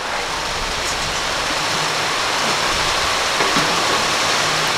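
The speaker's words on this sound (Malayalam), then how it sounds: "മഴ ചെറുതായിട്ടൊന്നും കുറഞ്ഞിട്ടുണ്ട്, മാറിയിട്ടില്ല" Rain falling outdoors, a dense steady hiss of heavy rainfall, loud and even across the whole stretch with no voices.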